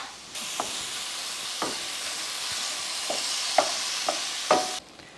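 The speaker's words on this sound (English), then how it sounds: "Let's give that a stir over there." Lean ground beef sizzles steadily in a pan on a stovetop while a utensil stirs and scrapes it in a few sharp, scattered strokes, close and without talk.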